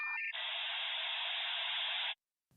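A 28.8K dial-up modem connects, with a brief handshake of tones followed by a loud, steady burst of hissing static that cuts off abruptly near the end.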